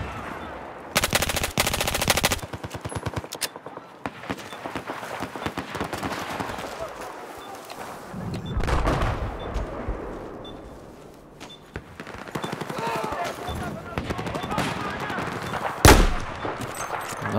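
Rapid bursts of Battlefield 4 gunfire from sniper and support weapons on an Obliteration match, loud clustered volleys and single sharp cracks with a heavy blast near the end, while a player talks over the action.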